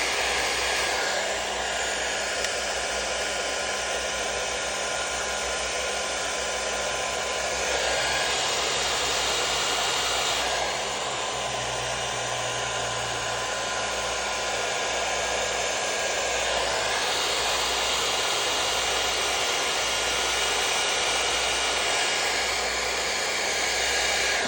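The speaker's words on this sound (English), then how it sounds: "I'm directing the blow dryer to her scalp" A blow dryer runs steadily close by as it dries relaxed hair at the scalp, a continuous loud whooshing hum with slight shifts in airflow tone as it's moved, and no talking.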